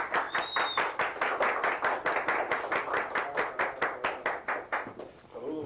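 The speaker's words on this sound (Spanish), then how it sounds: "Un fuerte aplauso." Rhythmic clapping from an audience greeting Dominican artist Príamo Morel, steady evenly spaced hand claps, fairly close and moderately loud, fading out at the end.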